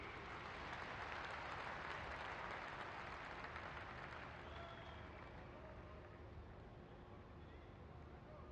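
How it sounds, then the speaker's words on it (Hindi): Dense, steady applause from a large crowd at a government ceremony where the Prime Minister unveils a postage stamp, continuing evenly throughout and fading slightly toward the end. "आपकी जोरदार तालियों के बीच"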